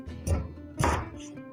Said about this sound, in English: After you have finished cutting your sweet potatoes into 1/4 pieces